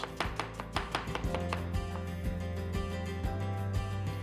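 A knife chops coriander coarsely and green chillies finely on a board in a home kitchen, giving rapid, evenly spaced close taps that soften slightly toward the end over a steady tonal background.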